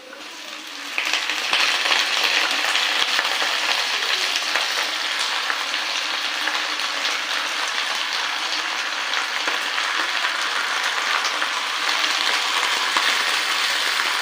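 Chicken pieces fry in a pan with green chilli for a chicken curry, a steady loud sizzle that starts abruptly after a second and hisses on evenly, without speech.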